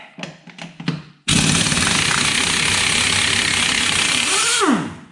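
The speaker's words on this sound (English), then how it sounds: "I'm taking a 19mm socket. Driving it right on there." An impact wrench drives a 19mm socket onto a wheel lock nut on a Jeep Wrangler YJ, giving a loud, continuous rattling hammer that lasts about four seconds and then winds down. A few clanks of the socket being fitted come first.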